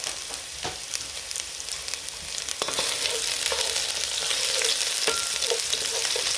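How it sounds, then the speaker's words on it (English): Vegetables with grated garlic sizzling and simmering in a pan, a continuous crackling fry that grows louder midway, with a few sharp spatula taps. "Let them simmer a bit."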